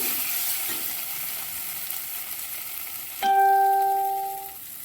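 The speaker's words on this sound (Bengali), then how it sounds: "পেস্ট করে যেটা রেখেছিলাম সেটা আমি দিয়ে ভালো করে মশলাটা কষে নিচ্ছি" Spice paste for mutton curry frying in a pan, a close steady sizzle that gives way to a sharp metallic clang with a ringing tone that slowly fades.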